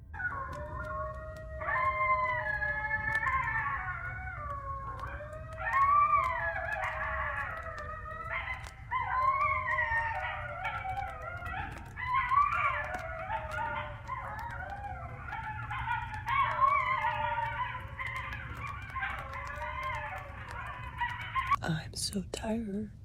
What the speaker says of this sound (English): I guess that was a bunch of coyotes just living their best life.